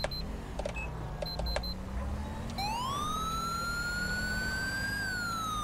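A police car siren in the video game LSPDFR (GTA V) starts up partway through, wailing in a long rising sweep over a low engine drone, after a few short electronic beeps and clicks.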